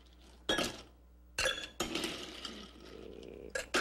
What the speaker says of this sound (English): so we'll add ice, about half full of ice.